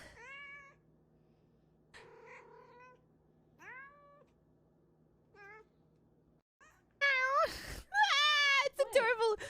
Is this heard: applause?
no